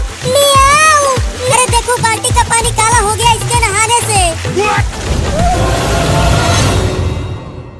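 A voice imitates a cat's meow in drawn-out, wavering cries over busy background music, fading to quieter noise near the end.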